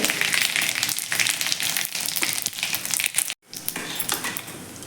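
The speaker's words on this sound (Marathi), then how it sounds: "त्यामध्ये घालायचे आहे मोहरी जिरे घेतलेले आहे जिरे घालायचे हिंग घालायचं आहे" Cumin, mustard seeds and asafoetida crackle and sizzle loudly in hot oil for a soybean curry, a dense continuous frying hiss with sharp pops throughout and one brief dropout near the end.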